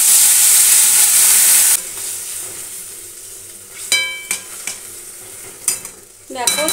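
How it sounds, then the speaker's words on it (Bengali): Hot broth pours onto vegetables frying in a pan, setting off a loud, steady hiss that drops away into quieter bubbling, broken by several sharp clinks and scrapes of a utensil near the end. "তো এখন ঝোল দিয়ে দিচ্ছি।"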